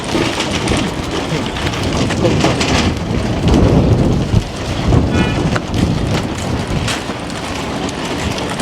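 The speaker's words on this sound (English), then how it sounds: "Windy." Steady loud rushing noise fills the clip, like strong wind and rain buffeting everything, with occasional low rumbles.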